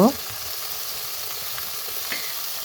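Salt and slit green chillies fry in a pan for broccoli curry, giving a steady, close sizzling hiss with faint stirring scrapes throughout; a brief tonal sound opens it.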